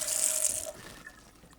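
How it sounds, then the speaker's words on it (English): Tap water running into a sample vial at a sink, a bright splashing stream for under a second, then the flow stops and leaves faint drips and rattling. "Rinse it out twice with tap water."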